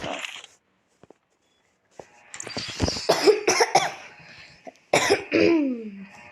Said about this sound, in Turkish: O yüzden öksürüyorum.